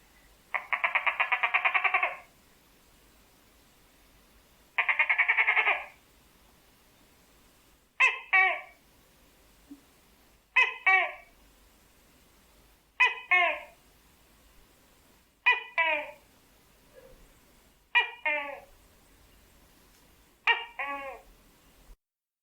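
A small house gecko (chechak) calls from nearby at night: two longer buzzing notes followed by a regular series of short sharp chirps repeating every few seconds against a quiet background.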